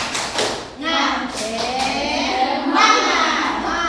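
A group claps and calls out together in a quick rhythmic chant, voices and hand claps blending over a couple of seconds.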